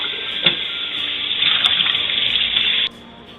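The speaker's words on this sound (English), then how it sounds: "With cool water, I'm going to rinse the whole bird," Cool tap water runs over a whole raw turkey of about 18 to 22 pounds as it is rinsed inside and out, a steady close splashing stream that swells slightly before cutting off abruptly near the end.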